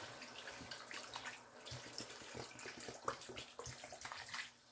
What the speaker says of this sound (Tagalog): At lagyan na rin natin ng tubig.